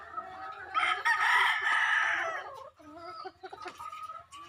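Hens cluck and call nearby, one drawn-out crowing-like cry followed by a run of shorter clucks, with no talking.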